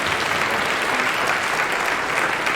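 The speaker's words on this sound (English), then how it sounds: "let's give a round of applause for the University of Porto" An audience at the ICPC World Finals 2019 dress rehearsal in Porto applauds, a steady dense clapping from a large crowd heard close and loud throughout, with no speech over it.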